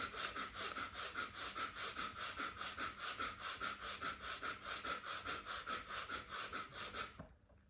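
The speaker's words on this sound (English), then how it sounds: "The Bhastrika. So breathing in and out." Bhastrika yoga breathing: rapid, forceful breaths pushed in and out through the nostrils in a steady, even rhythm of about two per second, close and clear, stopping abruptly near the end.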